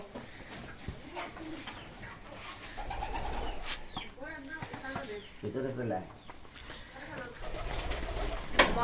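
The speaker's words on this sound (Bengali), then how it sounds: "তাহলে আমরা কবুতরটা ধরে নিয়ে আসি" A crested pigeon on a farm gives soft repeated cooing at close range, with brief wing flaps and other birds around, while a person speaks briefly nearby.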